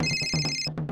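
A mobile phone ringtone plays in a short electronic burst of bright, steady tones over a pulsing lower pattern, close and clear, then cuts off abruptly.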